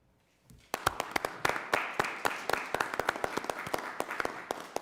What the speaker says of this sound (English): I'd ask that you all join me in a round of applause for these election professionals